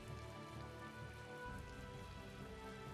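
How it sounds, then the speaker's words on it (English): Rain falling in the video game Tales of Vesperia, a constant, soft patter of rain across the whole stretch, with background music and a low rumble underneath. "Also, it's raining."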